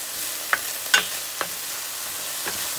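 Vegetables cooking down in a pan give a steady soft sizzle, broken by a few quick scraping stirs and clicks of a utensil.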